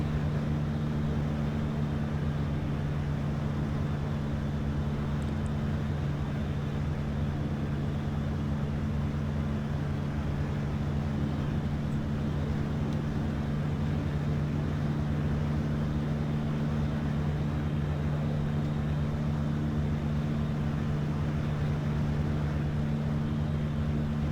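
Diamond DA40 light aircraft piston engine in the flight game Flight Sim World, a constant loud droning hum with a strong low tone as power is eased back on approach for landing, steady throughout with no talk.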